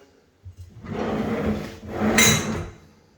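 A custom-built pull-out oil trolley drawer in a kitchen cabinet glides along its runners in two smooth sliding strokes, with a light knock at the start and a brighter rasp near the end.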